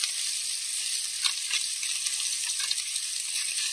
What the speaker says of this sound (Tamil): இந்த வெங்காயத்தை நம்ம எண்ணெயோட சேர்த்து நல்லா வதங்கணும்